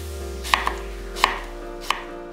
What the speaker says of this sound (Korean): 고구마 600g을 듬성듬성 잘라서